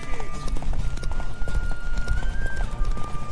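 Horse galloping in The Witcher 3, rapid rhythmic hoofbeats pounding close and loud throughout, with a voice speaking faintly over the running.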